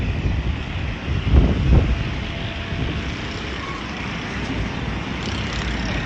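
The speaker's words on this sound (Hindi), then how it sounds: "बहुत तेज हवाएं चल रही हैं" Strong gusty wind, as a dust storm picks up, roars steadily across an open house rooftop, buffeting the microphone with a louder surge early on.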